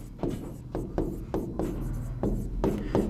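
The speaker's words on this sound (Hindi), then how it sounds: "यहाँ लिखता हूँ मैं आपके लिए।" Marker or chalk writing on a board, a series of short scratchy strokes with brief pauses between them, close and fairly clear over a steady low room hum, with no talking.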